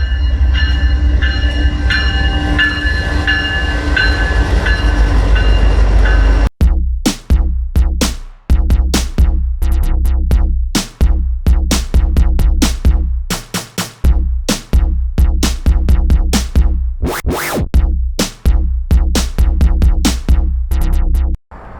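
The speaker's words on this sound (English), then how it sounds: "the train got back there. It was a little bit loud." A train rumbles past loudly and close, first a steady roar, then a long run of rhythmic clacking as the cars roll by.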